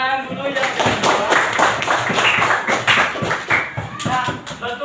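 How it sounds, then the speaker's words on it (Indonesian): Classroom applause during an Indonesian school science lesson on simple wind turbines, a steady wash of many hands clapping close by for about five seconds, with voices mixed in. "Baik, tepuk tangan dulu yang kedua."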